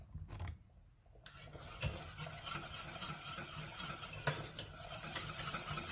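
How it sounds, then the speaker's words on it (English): Banana pudding custard thickening on the stove as it is whisked vigorously in a pot, a dense continuous metallic scraping and swishing that starts quietly and then runs steadily, close up with no voices. "we're going to whisk vigorously"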